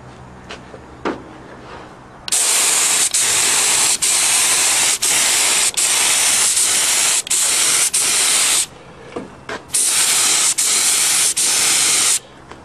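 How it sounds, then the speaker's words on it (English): Aerosol spray paint hisses in long, loud bursts as small go-kart parts such as air scoops and a shifter rod are coated, with brief pauses between several sustained sprays. "Now I'm just going to paint all the little parts. Like the air scoops and shifter rod."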